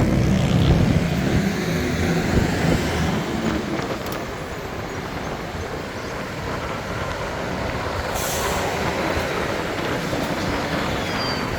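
A bus labours uphill through Bangkok traffic, a loud, sustained engine rumble mixed with road noise and wind, heard from a bicycle ride nearby, with a short hiss partway through.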